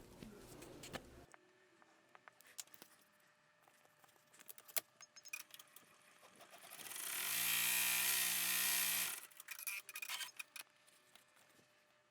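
An embroidery machine stitching an in-the-hoop bear outfit piece kicks into a fast, buzzing run of rapid needle strokes for a few seconds mid-clip, surrounded by faint handling clicks and quiet room sound.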